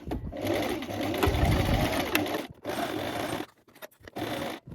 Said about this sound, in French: Je tourne et je continue de coudre à 1 cm.